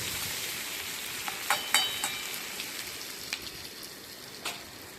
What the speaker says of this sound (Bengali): ওদিকে বেগুন ভাজা প্রায় হয়ে এসছে